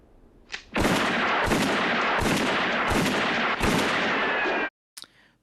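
A burst of rapid, loud gunfire from a pistol scene in a classic western film rings out as a nearly continuous volley for about four seconds, followed by one short final crack.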